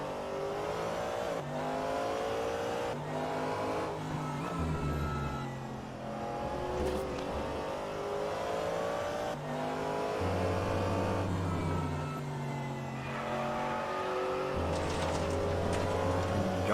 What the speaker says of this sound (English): For the moment, please enjoy some American V8 sounds.